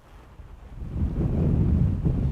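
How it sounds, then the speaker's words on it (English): Wind buffets the microphone in a low rumbling rush that builds and stays strong, with no voices, outdoors on Florida's Space Coast. "I gotta be careful because it is windy today."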